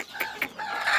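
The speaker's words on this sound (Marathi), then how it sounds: "हे बघा कोंबड्या." Village chickens cluck in a few short, close bursts, loud and clear over roughly a second.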